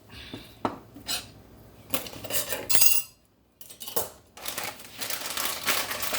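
Dishes, pots and cutlery clatter and clink as a kitchen is tidied mid-cooking while making shepherd's pie, bursts of scraping and crinkling with a short quiet gap, close and fairly loud, no talking.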